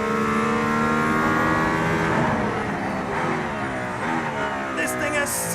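The Mercedes-AMG ONE hypercar accelerates hard on the road to a circuit in Barcelona, its engine note rising and sweeping through gears, heard from inside the car with a voice over it.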